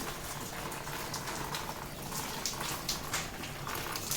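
Rain falls steadily on a farm, an even, close wash of hiss with scattered drop taps and no breaks.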